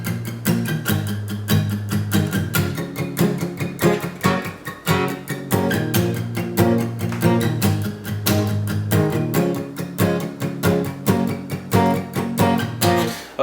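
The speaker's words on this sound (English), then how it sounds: "you want to rest your hand on the string so you get that palm mute sound" An acoustic guitar plays tight palm-muted eighth-note down strums in a steady, even rhythm through a verse chord progression, close and clear, with no talking.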